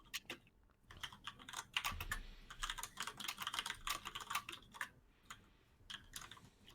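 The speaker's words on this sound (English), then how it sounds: "Furious typing." Rapid, furious typing on a computer keyboard, a dense run of close clicks and clacks with a few brief pauses, heard alone.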